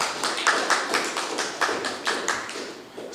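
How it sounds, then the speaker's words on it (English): A workshop audience claps for presenters, producing a dense, steady patter of hand claps at moderate volume for a few seconds, with no speech over it. "I just want the audience to give the presenters a round of applause for the good presentation they did"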